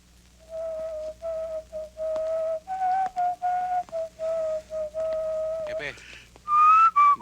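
A clear melodic whistle close by, a tune of steady held notes in short phrases, ending with a higher rising whistle, in a Filipino action film scene.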